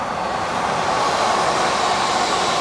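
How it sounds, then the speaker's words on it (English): A train passes close by at a London rail station, a loud, steady roaring rush of wheels and motion that swells slightly and holds, with no talking. "Oh, that's the train I would have got."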